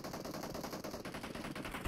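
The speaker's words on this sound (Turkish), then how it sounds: "Arkadan sıkıyorlar galiba." Rapid automatic gunfire from behind in PUBG Mobile rattles in a fast, even burst, fairly faint and distant, lasting a couple of seconds.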